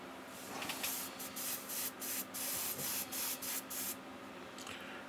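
An airbrush sprays tan flesh-toned paint in short, soft hissing bursts, a series of quick, close, quiet passes over a faint steady hum.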